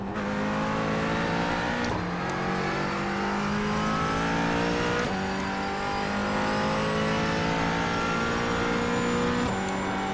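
A GT4 race car engine in the iRacing sim on the Gateway Roval screams at high revs, climbing through gears with sharp shift breaks, loud and continuous with no voices.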